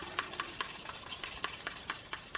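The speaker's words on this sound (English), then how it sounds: "I'm going to stir it up before applying it." Epoxy resin is stirred before coating a boat hull, a steady rhythm of faint scraping strokes repeating about every quarter second against a low hiss.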